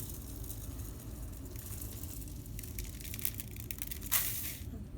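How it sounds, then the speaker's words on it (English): Quick cooking oats poured from a measuring cup into a container, a soft continuous rustling, sandy pour lasting several seconds, close and fairly quiet, ending with a brief louder scrape. "Pour that in after I measured it."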